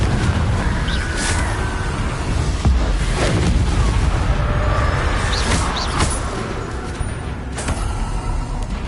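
Confringo fire spells cast in Hogwarts Legacy combat produce loud, dense rumbling blasts that repeat every few seconds over a constant roar of game noise.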